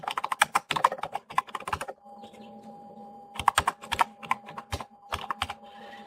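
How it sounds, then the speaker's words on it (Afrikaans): An address being typed on a computer keyboard, with quick bursts of crisp, close key clicks, a pause with a faint hum in the middle, then another run of keystrokes. "Ek gaan die persoon se adres intik."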